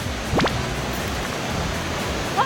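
Steady broadband rush of a waterfall near Ure Dam in Aichi, Japan, a constant roar filling the scene with no pauses, with a brief faint chirp near the start.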